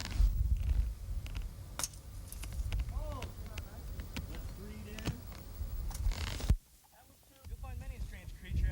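A cat near a yard golf course in western Nebraska purrs steadily close by, a low continuous rumble under outdoor wind noise and occasional voices, with brief chirps and a short quiet gap near the end.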